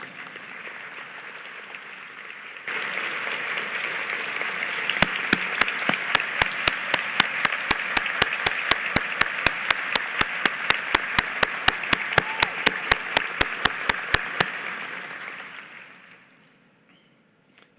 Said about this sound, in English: please stand so we can all give you a very well-deserved round of applause